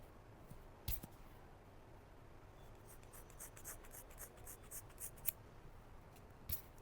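Scissors snip through hair during a first attempt at a self-done butterfly cut, giving a few faint, crisp, close cuts spaced apart over quiet rustling.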